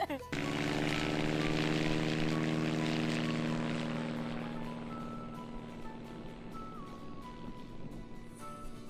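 The loud, steady drone of a propeller aircraft engine close by during a glider flight, holding a constant pitch with a faint shift in tone near the end.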